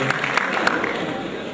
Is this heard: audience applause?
yes